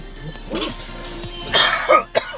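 A man coughs a few times in quick, close bursts, with a harsh throat-clearing quality and short pauses between each cough, alone without talk.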